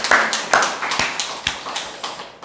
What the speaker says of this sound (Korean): 다시 한 번 더 환호작약 하나님께 박수로 영광을 돌리시기 바랍니다